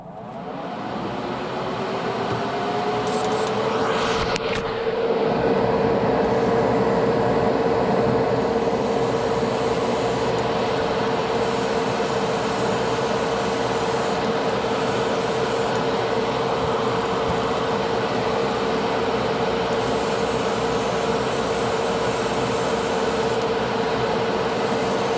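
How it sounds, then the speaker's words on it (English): A ventilation fan in a paint workshop starts up and runs steadily as a loud, continuous whirring drone with a steady hum, and no talk is heard over it. "I'm gonna turn the fan on because this stuff is potent, so sorry for the noise."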